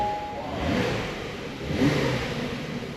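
A Porsche 911 992 Carrera S with 450 horsepower, driving in classic mode with the sunroof open, revs its engine twice as a moderate, rising drone heard from inside the car.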